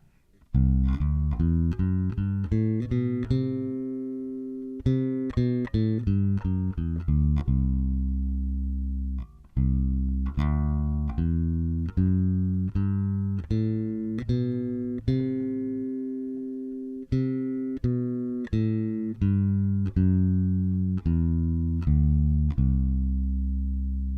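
Bass guitar plays a C Lydian scale up to the octave and back down, one clear plucked note after another in an even, unhurried rhythm, loud and close with no voice over it.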